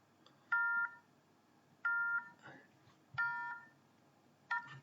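Four short electronic tone bursts, each a triple-tone signal, repeat at regular intervals over a low background murmur, like a phone network's unavailable-number signal.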